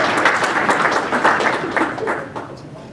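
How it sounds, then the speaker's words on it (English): An audience applauds at a conference event, a dense wash of many hands clapping close and steady for about three seconds before easing slightly at the end. "you guys can clap for me now"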